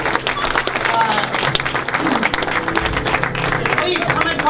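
Theater audience applauding guests at an improv-style public policy show, a steady wash of clapping from a crowd with a voice talking over it throughout.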